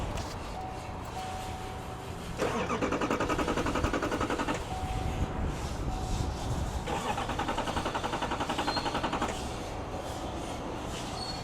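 An engine with a CP3 injection pump conversion is cranked in two long, loud bursts of fast, rhythmic starter churning separated by a pause, over a constant background rumble, without catching.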